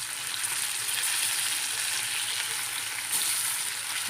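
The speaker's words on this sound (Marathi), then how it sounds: "ही साईड पण आता व्यवस्थित फ्राय झालेली आहे" Mackerel fillets frying in hot oil in a pan, Malvani style, giving a steady, dense sizzle with a brief swell near the end and no voices.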